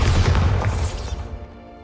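A Bombarda blasting spell goes off in Hogwarts Legacy, one loud, deep explosive boom with a crackling burst that decays over about a second into quiet.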